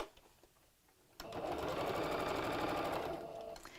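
A sewing machine runs a continuous burst of fast stitching through fabric for an Easter bunny bag, starting abruptly after a quiet pause and holding a steady mechanical whir close by before easing off.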